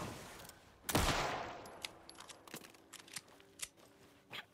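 Gunfire in the video game Alan Wake 2: one loud, close shot followed by several fainter, scattered pops and clicks, with no voices.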